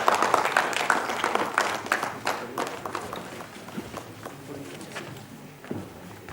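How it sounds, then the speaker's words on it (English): Audience applause at a BAPCON conference session, a dense burst of clapping that gradually thins out and fades over several seconds, with some scattered murmuring. "can we have a round of applause for them?"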